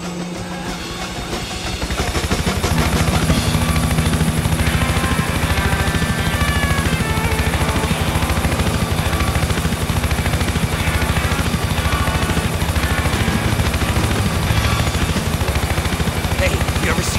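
A helicopter in Grand Theft Auto IV roars in loud and steady after a quieter opening second or two, its dense, continuous rotor-and-engine wash filling the scene with faint other game sounds mixed in.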